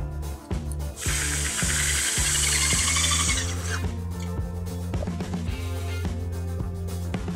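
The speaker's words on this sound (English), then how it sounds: "Grab our 3/4 inch screws right into the post." A power driver sinking 3/4 inch screws into a railing post, with a steady humming motor, a harsh grinding burst early on, then a ratcheting rhythmic chatter close by.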